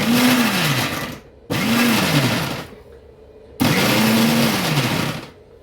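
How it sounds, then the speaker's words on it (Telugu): A kitchen mixer grinder blends okra and tomato for a Rayalaseema-style Andhra chutney in three short, loud whirring pulses. Each burst starts with a rising motor whine and ends with a brief stop. "వేసి మనం లేదా మిక్సీ తిప్పినట్టుగా తిప్పకూడదండి, జస్ట్ ఉల్టా ఇటుపక్కు తిప్పాలన్నమాట"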